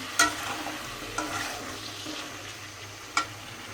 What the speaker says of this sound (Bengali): চিনি মাছ দিয়ে ডাটা আলু দিয়ে রান্না করতেছি কষাই নিতেছি